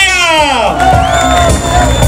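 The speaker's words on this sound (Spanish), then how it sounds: "¡Un aplauso para la rubia!" A crowd cheers and whoops loudly throughout, with shouting voices rising over the din at a year-end festival show in El Cobre.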